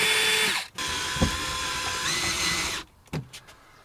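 A power drill drives screws to fasten wall panels back into a budget camper van, whirring steadily at close range for a few seconds before stopping, followed by a couple of short bursts.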